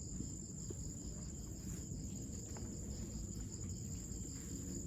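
Insects chirp in a cemetery with small trees, a steady high-pitched trilling drone that continues throughout over a low background rumble.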